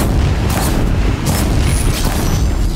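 Weapon fire in the video game Horizon Zero Dawn: heavy booming shots and bursts over a constant rumbling backdrop, loud and close, with a couple of sharper cracks standing out.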